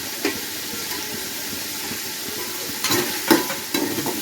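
Green chillies sautéing in hot oil for Bhai-style kuska, a steady close sizzle with a few scraping stirs and spatters near the end and no voices.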